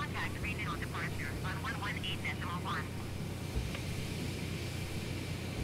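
The steady drone of a Cessna engine in a flight simulator game hums constantly underneath, while someone talks over it for the first half.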